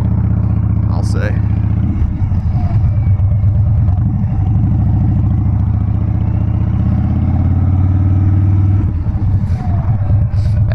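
A Harley-Davidson Dyna Wide Glide motorcycle rumbles steadily while being ridden, its low engine drone and wind noise running throughout under a rider talking, with a brief rise in pitch near the end.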